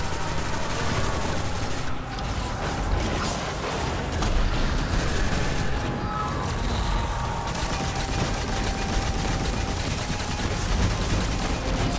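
Sustained gunfire in the Prophecy dungeon of Destiny, a dense, continuous barrage of shots and mechanical noise running loud and unbroken throughout, with no clear pauses.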